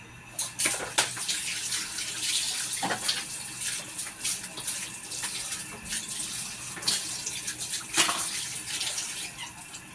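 Food is washed under a running tap, with steady nearby water flow broken by repeated splashes and handling noises as the pieces are rinsed.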